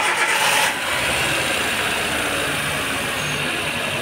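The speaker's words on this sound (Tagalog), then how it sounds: "Start! Okay, start mo!" A Hyundai Getz engine cranks and catches in a brief burst, then settles into a steady close idle with no talk.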